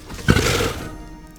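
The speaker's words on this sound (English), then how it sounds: "So the lion makes a roaring sound." A single lion roar, a short rough burst that swells and fades away, plays alone in a children's animal-book read-aloud.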